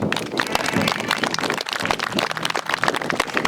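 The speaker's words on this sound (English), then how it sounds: "let's give him a round of applause" Audience applause greets Chief Byron Bitternose at a George Gordon First Nation gathering, a dense, steady wash of many hands clapping throughout, loud and continuous with no pause.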